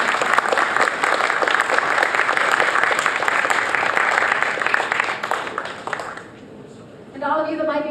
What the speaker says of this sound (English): Audience, at this time, it's appropriate to join me in a round of applause for both of these candidates.